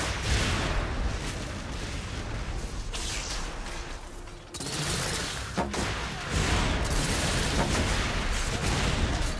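Bursts of gunfire and heavy booms ring out in The Order 1886 during a firefight against rebels, rapid cracks scattered across a dense, noisy battle soundscape with no clear voices.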